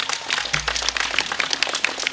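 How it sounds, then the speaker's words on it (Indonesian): Applause for Bali at an Islamic religious gathering, a brief burst of scattered hand clapping from an audience, moderately loud and fairly sparse. "Tepuk tangan untuk Bali."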